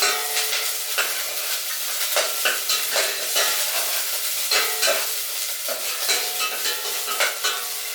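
Green chili stirring and sautéing in a pan for chicken soup, a steady close sizzle with repeated scraping stirs of a utensil against the pan, no talking.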